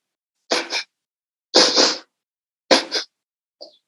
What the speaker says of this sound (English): a pulse breath is going to be 2 pulses in and out using your nose